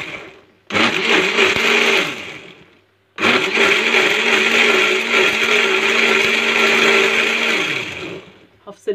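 An electric blender whirs loudly, grinding pomegranate for molasses. It runs in two long bursts, the second longer, then winds down to silence.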